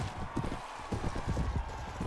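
Rapid hoofbeats of a galloping horse in the video game Mount & Blade: Warband, a fast irregular thudding patter at low volume, with no talk over it.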